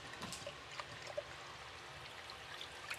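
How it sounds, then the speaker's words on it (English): Cold water trickles and splashes softly as sprouting seeds are rinsed in a glass jar, a faint, steady wet rush with a few small drips and sloshes. "I'm gonna rinse the seeds with cold water."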